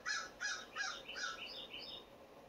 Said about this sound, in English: Thank you, Crow Baby.